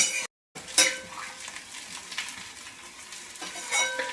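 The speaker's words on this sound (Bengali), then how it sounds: "এই দেখেন সব ভাজা হচ্ছে, কড়া কড়া করে ভাজা" Potatoes and curry sizzling and frying in a pan, a continuous crackling hiss with occasional stirring scrapes and clinks, close and steady, with a brief dropout near the start.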